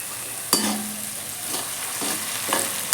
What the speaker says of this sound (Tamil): இப்போது வெங்காயத்தையும் நல்லா வதக்கிக்கலாம்.